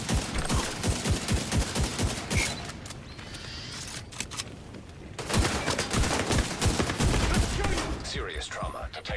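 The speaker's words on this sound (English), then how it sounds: "Deploy turret." A deployed turret in The Division 2 opens fire in a shooter game, with rapid bursts of automatic gunfire repeating in two loud runs separated by a brief quieter stretch.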